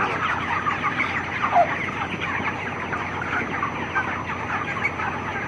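Twenty-six-day-old broiler chickens in a hot shed make a dense, continuous murmur of overlapping clucks and chatter, fairly close and steady, with no talk.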